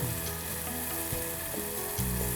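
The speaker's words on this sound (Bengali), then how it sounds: "টমেটো সহ মশলাটাকে কষিয়ে নিতে হবে" Spice paste with tomato sautés in a pan, giving a continuous, close sizzle and hiss with soft scraping of stirring, no voices.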